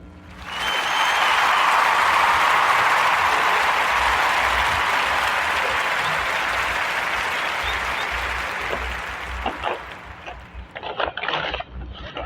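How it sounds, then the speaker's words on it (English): Close applause rises quickly and carries on for about eight seconds, then thins into a few scattered claps. "Join me in a warm narrative podcast round of applause for Miss April Showers and the Afro Unicorn"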